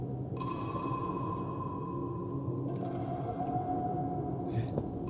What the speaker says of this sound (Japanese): なんですかこのピーって音。